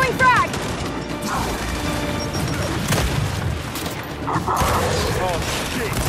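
A frag grenade blows up amid a chaotic Gears 5 firefight: heavy booms and crashing debris over mechanical clatter, close and loud, with some voices in the mix.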